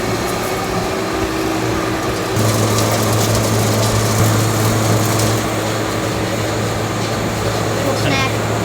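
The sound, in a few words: grinder grinding cocoa nibs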